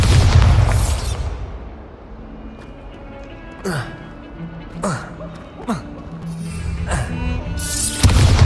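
Bombarda explosion spell in Hogwarts Legacy, with a loud booming blast at the start and another at the end, and smaller magical bursts and whooshes between them during combat.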